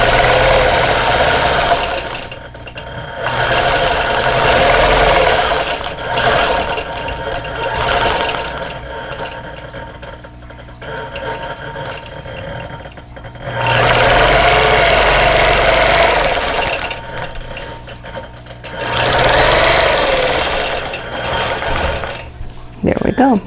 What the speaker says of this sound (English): I'm going to go ahead and come in and do a little bit of straight line quilting in here